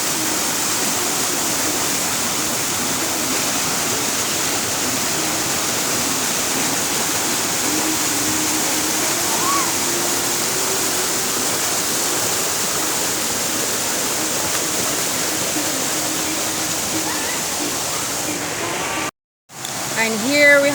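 A Jamaican river runs with a steady, close rushing wash of flowing water that fills the whole stretch evenly, with a brief dropout near the end.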